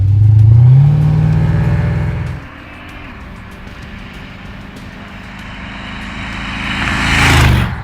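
A supercharged Jaguar-engined rat rod drag car engine roars loudly at high throttle, drops abruptly to a lumpy idle, then swells again into another rev near the end, close and loud with no talk.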